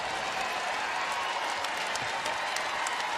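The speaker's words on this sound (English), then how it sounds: "Crowd applauding the effort there of Brittany Griner" A basketball arena crowd at Arizona State applauds through a WNBA semifinal game between the Aces and Mercury, with steady, dense clapping at a moderate distance and no speech.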